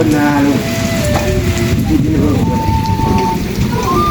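Steady rain pours down on a hill village in Laos in a continuous hiss, with tonal whistles and faint background sounds drifting over the downpour.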